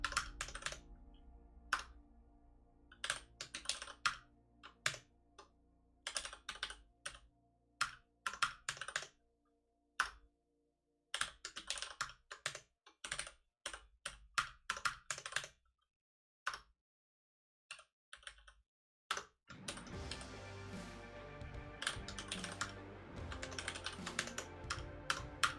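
Fingers type on a computer keyboard in irregular bursts of close, crisp key clicks, pausing between runs, with faint background music joining near the end.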